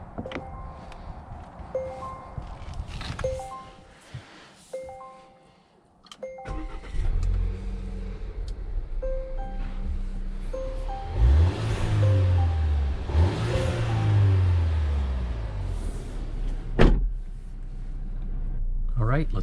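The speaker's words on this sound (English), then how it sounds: "let's go ahead and take this 2021 Volvo V60 on a test drive and see how it does" A 2021 Volvo V60 T5 all-wheel-drive wagon starts up and pulls away on a test drive, its engine rising and falling through gear changes, with interior clicks and a voice talking over the first part.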